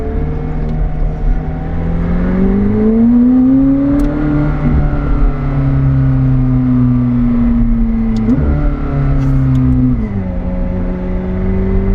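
McLaren 765LT sports car engine heard from inside while driving, a loud steady drone with gently rising and falling pitch as throttle varies, continuous and without talk.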